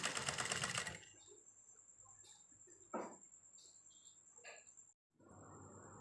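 A sewing machine runs a fast, loud burst of stitching for about a second as it re-stitches the crotch seam of a pair of trousers. It then falls quiet, leaving faint insect chirping and small handling noises.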